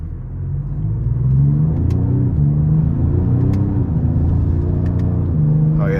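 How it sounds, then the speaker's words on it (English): A 2025 Ford Explorer ST with a 3.0 twin-turbo V6 pulls hard under throttle, its engine building to a loud, sustained drone and rumble heard from inside the cabin. "we're about to give it some throttle here"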